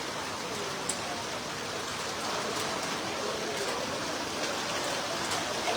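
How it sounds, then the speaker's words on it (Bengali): A heavy hailstorm pours down on Dhaka city, a dense, continuous hiss of rain and hail striking surfaces, steady and fairly distant, with no voices over it. "এই যে ঢাকা শহরে এই বৃষ্টি আমরা আসলে অনেকেই কিন্তু সচরাচর দেখি না"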